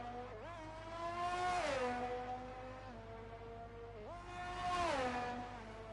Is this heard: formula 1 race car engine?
yes